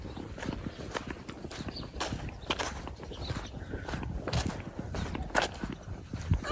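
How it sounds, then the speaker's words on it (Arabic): A horse walks on the hard floor of a stable, its hooves clip-clopping in a steady uneven rhythm, close and fairly loud, with light background noise and no talk. "هذا حصان"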